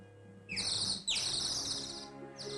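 A nightingale sings in two bright, high whistling phrases separated by a brief pause, fairly close and clear, with another phrase beginning at the end.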